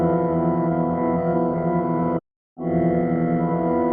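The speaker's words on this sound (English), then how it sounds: "I want to try to make an organ melody from scratch now." A dark, sustained organ melody built from a sample for a beat, with steady droning chords held loudly, then a sudden short cutout before the same organ loop resumes.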